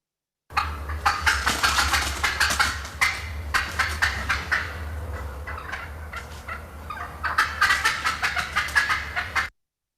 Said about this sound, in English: what you're hearing is essentially birds either flying up to the roost or flying down